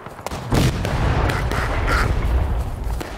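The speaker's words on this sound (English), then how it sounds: "Oh, crap, they're shooting us." Video game gunfire in a sequence of sharp, loud shots and booms, some in quick bursts, under a steady background rumble.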